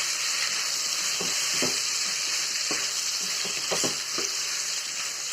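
Four roughly cut medium tomatoes sauté in a hot pan for restaurant-style paneer butter masala, giving a steady close sizzle with a few soft spatula scrapes and stirs.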